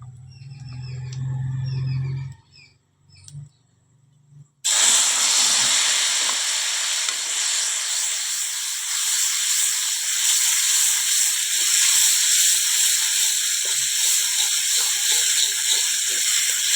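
Spices tempering in hot oil for a home-cooked dish: after a brief quiet start, a loud steady sizzle and hiss bursts in and continues strongly to the end.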